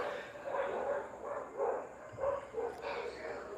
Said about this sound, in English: The dogs around here are getting out of hand.